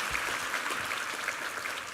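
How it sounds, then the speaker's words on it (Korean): A church congregation applauds its four choir conductors during a Sunday worship service, a steady wash of clapping that holds at even loudness for the whole stretch. "우리 4명의 우리 지휘자들에게 함께 힘찬 한번 격려의 박수 부탁합니다"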